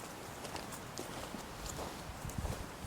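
Footsteps crunch and scuff on rocky ground near a stone wall outside the Conjuring house, steady and fairly close, with a few heavier steps toward the end.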